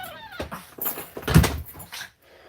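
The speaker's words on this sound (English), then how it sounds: "we will let the dog back in, because the dog needs to go back in" A dog whimpers and whines at a door in a few short, soft, close bursts, with light scuffling and knocking against the door between them.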